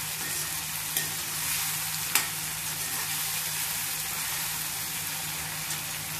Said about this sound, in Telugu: బాగా వేయించండి, ఒక ఫైవ్ టు సిక్స్ మినిట్స్ బాగా ఫ్రై చేయండి వీటిని.